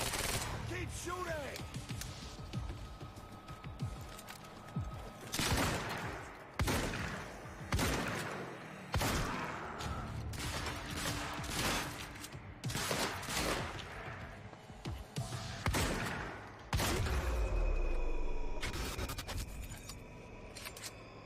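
Gunfire in the video game Quantum Break, a series of loud, sharp shots and bursts scattered irregularly amid game action and occasional voices.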